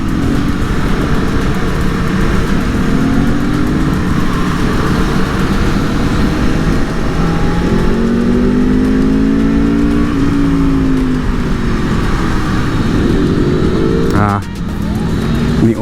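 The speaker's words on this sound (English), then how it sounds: "So you basically kind of want to keep on the clutch until about 20 miles an hour with first gear with this bike, and it's a pretty smooth takeoff." An Aprilia Tuono V4 motorcycle pulling away in first gear under a slipping clutch, its engine droning loud and steady as the revs climb and dip, with a rider talking over the continuous motor noise.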